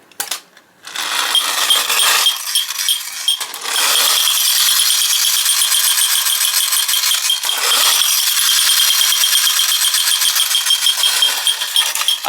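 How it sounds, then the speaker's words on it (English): A loud, continuous metallic rattling and whirring from a wind-up tinplate toy motorbike rolling along, its raised back wheel making the noise, with brief pauses and restarts, close by. "The back wheel doesn't come into contact with the ground, but it makes this stupid noise as it goes along."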